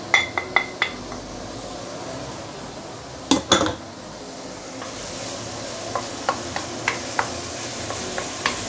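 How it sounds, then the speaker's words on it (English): Garlic and shallot sauté in oil in a pan over medium heat, a steady soft sizzle running throughout, broken by a few sharp clinks of a utensil against the pan near the start and scattered lighter taps later. "We want to saute our garlic and shallot."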